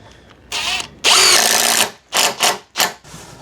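A power drill whirs in several loud, close bursts as it bores through roof timber, with one long run in the middle and shorter pulses after it. No talking.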